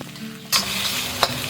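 Black tiger prawns hit hot oil with aromatics and are stir-fried, a sudden loud sizzle rising after a quiet moment, then steady frying with a sharp scrape of the spatula near the end.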